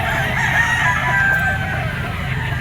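A game rooster crows loudly and close at the Lipa auction market, a sustained call that fills the moment over a steady low murmur of the crowded market.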